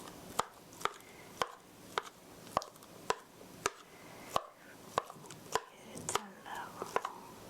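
A knife cuts homemade milk ricotta cheese into small pieces in a bowl, sharp regular taps about every half second, close and clear, with faint whispery talk in the background.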